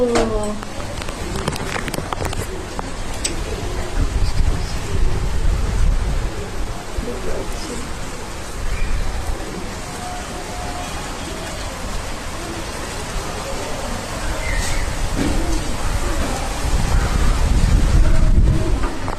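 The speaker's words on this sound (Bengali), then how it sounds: "দেখো কি জোরে জোরে হাওয়া দিচ্ছে" Strong gusty wind during monsoon rain, a steady roar of rainfall buffeting the microphone with surges of wind noise that rise and fall, loud and close, with occasional voices in the background.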